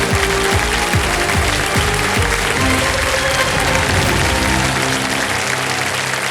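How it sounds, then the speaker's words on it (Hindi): A studio audience on the Hindi quiz show KBC claps loudly and densely, a full steady roar of hands mixed with show music that has rhythmic low beats early on, all close and sustained throughout. "तालियां बज जाए इनके लिए।"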